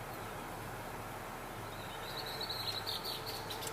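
A red-winged blackbird calls outdoors, faint and somewhat distant, with a burst of high trilling notes late in the clip over steady background noise.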